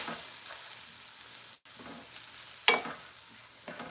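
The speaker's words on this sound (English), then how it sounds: "You need to saute. So I'm sauteing it." TVP vegan ground meat sautéing in a pan, a quiet steady sizzle with a brief dropout and one sharp clack of a utensil against the pan.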